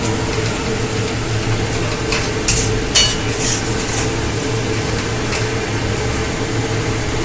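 A spice paste with onion fries on medium heat, a steady close sizzle with a couple of brief clinks of a utensil against the pan partway through, no talking.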